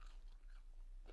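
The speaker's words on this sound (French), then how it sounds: "les frites, elles croustillent bien" A crisp bite into crispy air fryer french fries, a short, close crunch at the start and another near the end, faint and otherwise quiet, with no talking.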